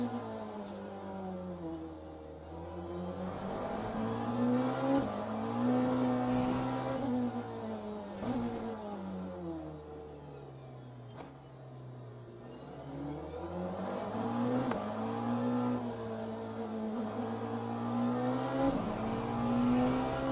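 Race car engine in the Le Mans Ultimate sim as the car pulls out of pit road, revving steadily up and down through gear changes, continuous and close with a whining drone.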